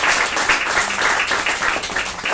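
Audience at a dinner speech and Q&A applauding, a steady wash of hand clapping that holds at an even level throughout with no voices rising above it.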